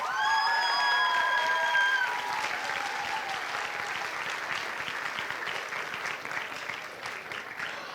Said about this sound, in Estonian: Teeme aplausi ka neile ikka.